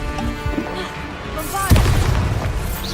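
A fiery Confringo spell blast in Hogwarts Legacy, a sharp boom partway through over game sound effects and music.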